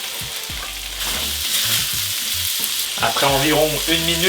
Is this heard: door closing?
no